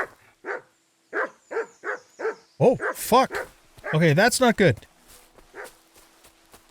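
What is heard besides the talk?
dogs barking in Kingdom Come: Deliverance 2 video game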